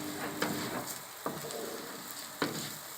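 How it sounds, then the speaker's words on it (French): Shallots sweating in a pan over medium heat for a chicken and mushroom risotto, a steady close sizzle with a few soft stirring knocks and no talking. "On va juste faire un petit peu transpirer tout ça avec les échalotes."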